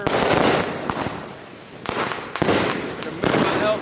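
Fourth of July fireworks erupting in Allentown, heard as close, loud crackling volleys separated by short gaps, with a few faint voices in the background.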